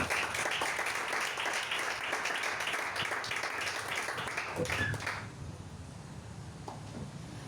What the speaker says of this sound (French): Est-ce que tu peux acclamer pour toi-même?